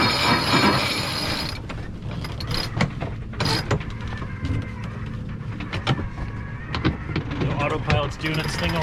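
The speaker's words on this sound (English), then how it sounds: "I don't like this winch" A sailboat's cockpit winch clicks and ratchets in repeated bursts as the sail comes across during winter sailing in Florida, set against steady wind and engine-like rumble, with people talking faintly.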